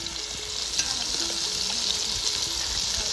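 Whole spices, tomatoes and coriander sizzle loudly in a pan for farm-cooked mutton curry, a steady close-up frying hiss with occasional stirring scrapes and no talk.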